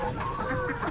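Laying hens from a newly arrived flock cluck and chatter steadily inside a ventilated tunnel house, a dense close chorus of overlapping calls filling the second with no talk.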